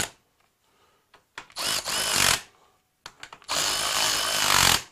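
Power tool nipping up bolts on a Suzuki GS1000 motorcycle fork, two loud whirring bursts with a short gap between them, close by and with no talk over them.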